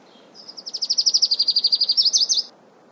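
A Lucy's warbler, a tiny drab wood warbler of hot, dry riparian habitats, sings one clear song: a rapid, accelerating series of bright, high chips ending in a few emphatic slurred notes, close and alone over quiet background.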